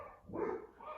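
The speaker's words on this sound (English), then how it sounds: "You can hear my dog barking like crazy because we're probably being invaded by a Amazon" A giant Labradoodle barks at a delivery arrival at home, a single muffled bark heard from another room at moderate distance, with no talk over it.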